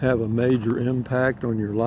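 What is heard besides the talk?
No everyday noises stand out.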